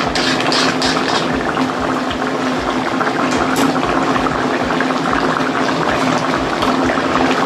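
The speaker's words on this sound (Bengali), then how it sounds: "আমি এবার ঘি দিয়ে দিলাম বন্ধুরা।" Papaya curry sizzling and bubbling in a pan just after ghee is added, a loud dense hiss with continuous crackling and bubbling that persists without a break.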